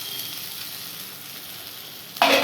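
A low, even sizzle of oil in a pan with mashed mango, then a sudden loud hissing burst as potatoes drop in for a mango and pointed gourd curry.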